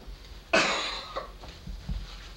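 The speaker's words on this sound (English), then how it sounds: "Stop that coughing on screen." A single sharp cough bursts out, followed by a couple of smaller throat sounds trailing off into quiet.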